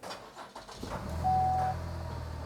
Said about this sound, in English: So now I'm going to start the engine.